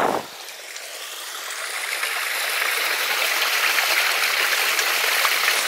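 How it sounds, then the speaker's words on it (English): A small stream flows off the Mendip Hills near Cheddar at the start of the River Axe, a steady close hiss of rushing water that swells slightly and continues unbroken with no voices. "so I reckon this is the start of the River Axe"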